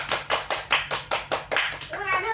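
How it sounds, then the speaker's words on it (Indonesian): A small group of children claps hands together in a steady, evenly spaced rhythm of about eight sharp claps. Voices join briefly at the end. "Mau tepuk tangan?"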